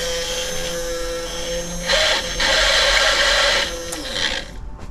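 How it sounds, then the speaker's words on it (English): An aftermarket fuel pump running dry outside the tank, a steady whining hum with a rising buzzy mechanical rattle in the middle, heard close up. "Pump's a bit noisy, but it is running dry."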